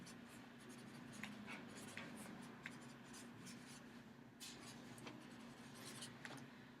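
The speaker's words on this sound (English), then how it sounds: "I'm going to write Victoria's question, what makes the heart pu" A question is handwritten in a classroom during a guided reading lesson. Faint scratchy pen strokes come in short, irregular bursts over a quiet room hum.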